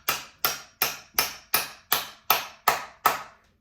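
Nine sharp, evenly spaced hammer taps ring out one after another, close and loud, as a wheel is driven onto an axle, with no voices.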